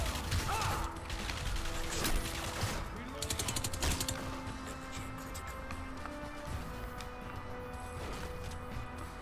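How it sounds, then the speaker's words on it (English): Suppressed gunfire in Crysis on PS3 comes as rapid, muffled clicking bursts mixed with mechanical rattles over a busy game soundscape with tonal music, moderately loud throughout. "That gun sounds so unintimidating with that suppressor on it."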